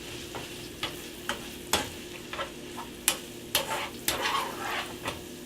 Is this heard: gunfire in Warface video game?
no